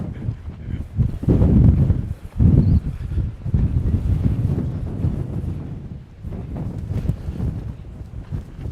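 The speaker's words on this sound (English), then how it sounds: "Oh my God, this wind is scary." Strong wind gusts roaring steadily against the microphone on a Greek island at Naxos near the Portara, loud and continuous with a few brief lulls.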